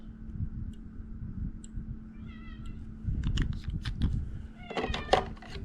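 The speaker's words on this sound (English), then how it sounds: "Get out of here, cat." A house cat meows close by in a room, with several short, bright cries over a steady low hum, along with light clicking and tapping from pool water-testing.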